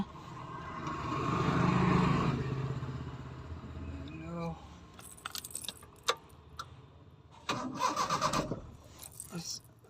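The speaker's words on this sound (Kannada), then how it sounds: "ಈಗ ಗಾಡಿ ಸ್ಟಾರ್ಟ್ ಮಾಡೋಣ" Keys jangle close by, then a vehicle engine turns over and starts in a short, loud burst. Low rumble and small clicks come before it, ahead of driving down a hill road.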